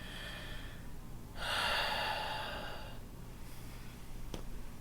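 A person breathing during a stress-release yoga class, with one clear, close, airy breath of about a second and a half, then quieter breath noise and a faint click.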